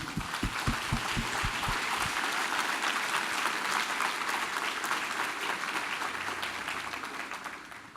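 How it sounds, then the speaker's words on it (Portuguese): A congregation bursts into sustained applause during a church service, the clapping starting with a few sharp beats and fading slightly near the end. "Vamos começar dando uma salva de palmas para Jesus?"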